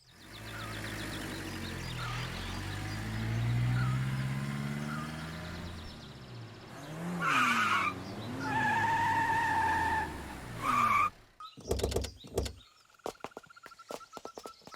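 A car driven recklessly, its tires skidding and squealing in a long screech that rises and swells, followed by sharp clattering knocks and bangs as the vehicle comes to a stop.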